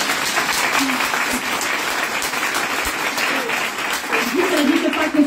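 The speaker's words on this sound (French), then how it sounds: "On l'applaudit très fort." A conference audience in France applauds loudly to welcome a guest speaker, a full, sustained burst of clapping with some voices rising over it near the end.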